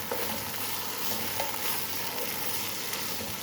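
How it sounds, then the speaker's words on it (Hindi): Onions sizzle in hot oil with bay leaf, whole red chilies and whole garam masala while a spoon stirs them steadily. The frying hiss is continuous and close, with light scraping, and no one speaks. "1 मिनट तक चमचा चलाते रहें ताकि प्याज अच्छी तरह से फ्राई हो जाए"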